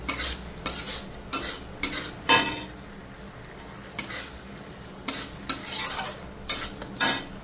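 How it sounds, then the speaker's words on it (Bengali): Spice masala for a khoira fish curry being stirred and fried in a pan, repeated loud scraping strokes of a utensil against the metal over a soft sizzle, in an uneven rhythm. "আরও 10 মিনিট কষে নেবো, যতক্ষণ না তেল ছাড়বে ততক্ষণ কিন্তু আমি মাছগুলো দেবো না।"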